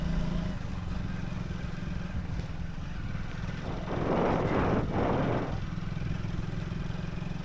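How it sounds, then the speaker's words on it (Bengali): Riding pillion on a motorcycle along a road on a clear day, with a steady engine hum and wind rush throughout and a louder surge of passing traffic or wind near the middle. "আমি কিন্তু বাইকের পিছে বসে আছি, বাইকের পিছে বসে বসে ভিডিও করতেছি"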